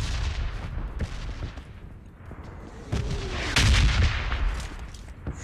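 A red zone artillery bombardment in the PUBG video game sounds as a steady run of booming impacts and sharp bursts, some near and loud, rolling on for several seconds.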